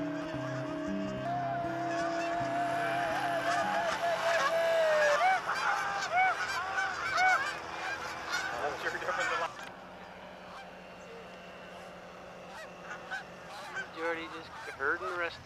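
A flock of ultralight-trained geese honks while landing in 1999, the loud, overlapping calls dense at first and then thinning and growing fainter toward the end, with no talk over them.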